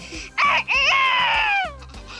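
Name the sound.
voice imitating a rooster crowing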